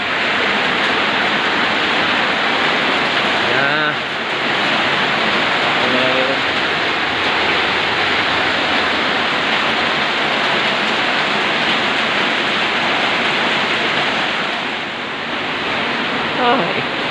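Floodwater in Tudela, Misamis Occidental rushes steadily back in, a loud, constant broadband roar like a torrent that continues without pause, with faint voices briefly audible beneath it.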